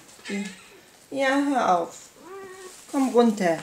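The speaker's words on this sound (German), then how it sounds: "das ist meine Katze" A house cat meows several times, drawn-out tonal cries spaced across the moment while someone speaks German to it between and over the calls.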